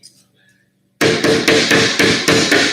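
After a quiet moment, six sharp hammer blows drive a staple into a wreath form in a steady rhythm, close and loud.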